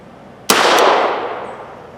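A low-recoil .38 Special Trail Boss load fired from a revolver held low goes off once as a single sharp, close report, followed by a long reverberating tail that gradually fades.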